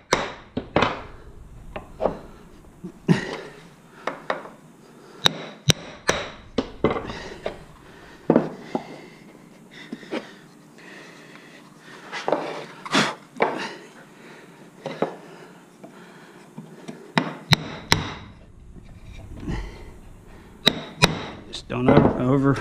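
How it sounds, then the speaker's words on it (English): A chisel cutting wood while shaping a long box turkey call, heard as a series of close, sharp taps and scraping cuts in irregular bursts, with quiet gaps between strokes. "Take the chisel, and we'll cut this little section off here and make it clean."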